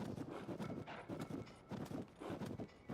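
Rhythmic hoofbeats of a horse trotting in an open-world fantasy game, clip-clops arriving in uneven bursts that pause briefly and resume, with no voices.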